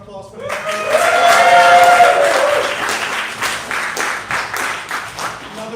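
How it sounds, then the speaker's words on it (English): Audience applause and clapping at an evening comedy showcase, swelling loudly after a moment and then thinning into scattered claps, with a voice speaking over the start. "Let's give another round of applause for that."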